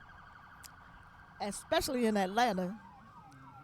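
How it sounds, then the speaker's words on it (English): Emergency vehicle sirens wail outside in Atlanta, rising and falling faintly in the background while a person speaks over them. "we could hear these sirens going for somebody"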